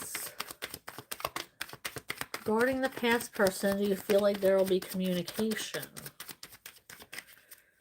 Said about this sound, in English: Shuffling for Lauren's past person.